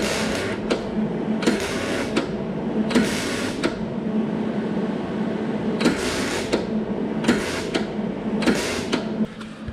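Welding along the edge of an exhaust on a Grumman, loud buzzing crackle in repeated short bursts of about half a second to a second, separated by brief pauses, close up with no talk.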